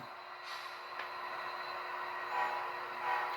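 An HO scale Amtrak model train runs on a home layout, making a faint, steady rolling rumble with light clicks that swells slightly toward the end.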